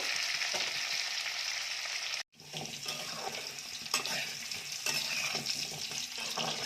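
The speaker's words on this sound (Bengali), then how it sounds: "আলুগুলোকেও ভালো করে ভেজে নেব।" Potatoes fry in a pan for an egg curry, a steady close sizzle with stirring scrapes, briefly cut to silence partway before the frying resumes.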